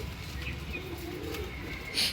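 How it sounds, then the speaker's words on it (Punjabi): A Tanki pigeon coos softly and steadily in a loft setting, fairly close but low in level, with a brief brighter noise at the end. "ਇਹ ਆਪਣੀ ਵੀ ਟਾਂਗੀ ਕਬੂਤਰੀ ਆ"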